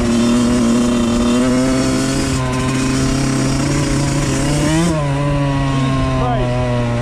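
A Suzuki RM 85 two-stroke dirt bike engine revs loud and close, holding a high buzzing drone with a brief throttle blip near the end.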